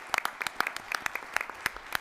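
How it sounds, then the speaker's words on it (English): An audience at a school board meeting applauds a shot put state champion, with sparse, sharp hand claps in an uneven patter from a modest number of people, moderately loud and without talk. "I want a big round of applause for that."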